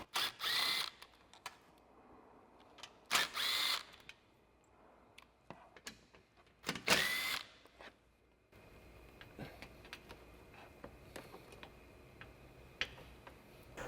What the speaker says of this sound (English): I'm going to use a combination of a clip removal tool and a 7mm socket on my impact to remove the 4 screws and 2 clips